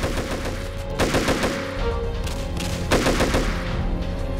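Sustained automatic gunfire in GTA San Andreas with a Halo mod, repeated rapid bursts rattling loudly over a continuous droning hum.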